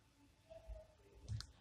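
A couple of sharp computer mouse clicks at close range, short and isolated against a quiet room background.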